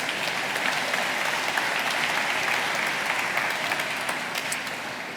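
Continuous applause from the audience at the opening ceremony of the Association of Space Explorers congress; a broad wash of many hands clapping evenly and steadily, tapering slightly near the end.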